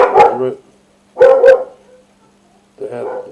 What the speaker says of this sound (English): the dogs are off again